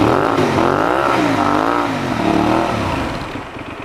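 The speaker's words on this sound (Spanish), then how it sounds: "Ahí pudieron escuchar cómo suena esta moto bicilíndrica de 754 centímetros cúbicos." A Benelli 752S two-cylinder 754 cc motorcycle engine revs loudly up and down close by, its pitch rising and falling in repeated throttle blips before easing off at the end.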